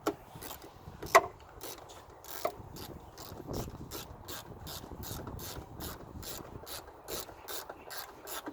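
Ratchet with a 10mm socket clicking in repeated bursts as it backs out a headlight bolt on a Pontiac Grand Prix, close and fairly quiet, with a few sharper knocks against the car.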